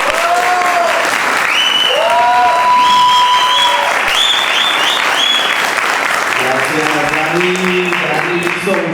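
An audience at a storytelling contest claps loudly and steadily throughout, while someone speaks over the applause.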